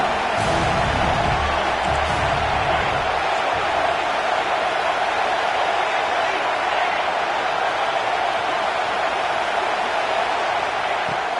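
Football stadium crowd at a college game, a dense steady roar of cheering that stays loud throughout, with some low thumps early on.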